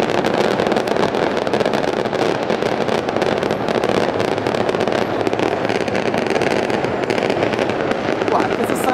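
New Year's fireworks in Naples, Fuorigrotta, crackle and bang without pause, a dense roaring barrage of nearby explosions filling the street.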